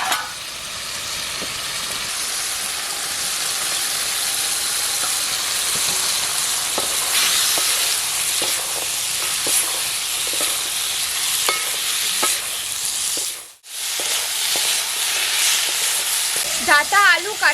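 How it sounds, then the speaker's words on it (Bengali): Red amaranth stalks, potatoes and jackfruit seeds stir-fried in a pan, a loud steady sizzle with repeated spatula scrapes and clinks, a brief break near the end and faint voices at moments. "ডাঁটা, আলু, কাঁঠালের বীজ সব কিছু খুব সুন্দরভাবে কষিয়ে নিচ্ছি"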